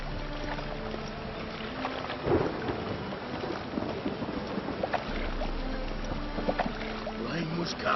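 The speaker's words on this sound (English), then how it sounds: "Rain was coming." Steady rain hiss in The Witcher 3 with a low thunder rumble swelling around the middle, muffled and continuous, with faint scattered noises layered over the downpour.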